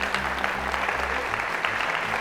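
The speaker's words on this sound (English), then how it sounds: "That's a round of applause there." Audience applause during a school superintendent's staff address, a steady wash of clapping from a crowd lasting a couple of seconds, moderately loud with low rumble underneath.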